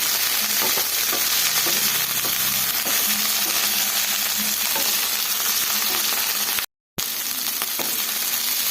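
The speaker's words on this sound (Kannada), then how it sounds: "ಸ್ವಲ್ಪ ಆಯಿಲ್ ಹಾಕಿ ಹುರ್ಕೊಬೇಕು" Okra fries in a little oil with a loud, continuous close-up sizzle, broken by occasional stirring scrapes and one brief dropout near the end.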